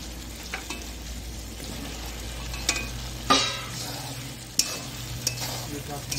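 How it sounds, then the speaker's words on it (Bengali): Potatoes go into a pan of fried spices for an egg cake curry, a steady close sizzle punctuated by spoon scrapes and several sharp clinks as the pieces are stirred. "এখন এর মধ্যে দিয়ে দেবো আলু।"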